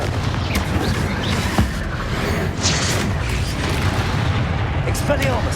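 Confringo blasting-spell explosions in the Hogwarts Legacy video game, deep booming blasts rolling one into another amid combat noise, loud and continuous, with a voice speaking over them.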